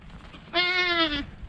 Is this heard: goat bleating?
yes